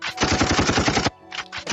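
A played gunfire sound effect bursts out as loud, rapid automatic shots, breaks off briefly, then resumes in shorter bursts.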